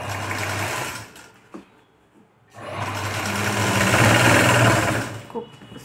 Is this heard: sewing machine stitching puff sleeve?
yes